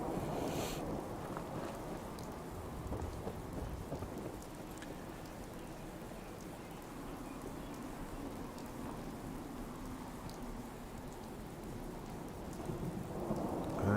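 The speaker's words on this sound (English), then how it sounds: "And the rain is making it dark again." Steady rain with low rumbling thunder in the game Fallout 4, a dense, even hiss of falling rain under a continuous distant roll that swells slightly near the end, with no voices.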